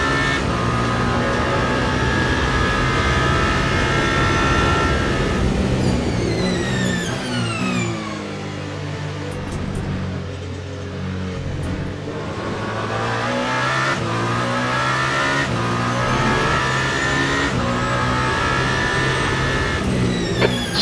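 A Toyota GR010 hypercar in the Le Mans Ultimate game races at Le Mans with a loud, continuous engine scream, shifting up through rising pitch sweeps, briefly easing off mid-run before accelerating hard again.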